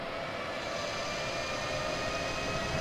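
A diesel locomotive engine in Train Simulator 2018 winds up after the throttle is pushed forward, giving a steady, loud mechanical drone with whining tones that holds at the same level for a few seconds.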